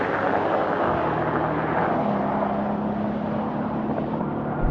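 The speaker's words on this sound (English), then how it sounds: "This is really noisy when you're going quickly. It's definitely noisier than the new one." An old Mercedes-AMG G63 driving fast on a motorway, giving a loud, steady, droning roar of engine and wind noise inside the cabin, with no talk over it.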